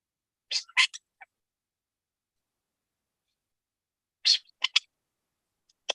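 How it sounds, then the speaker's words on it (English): Sparky, a roughly 25-year-old pet bird, gives two short bursts of bright chirping calls separated by silence, fairly close and alone. "I hear the bird."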